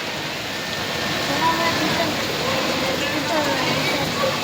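Steady rain pours down outside a roadside vada pav stall, a dense continuous hiss of drops and running water filling the whole span, with people talking over it.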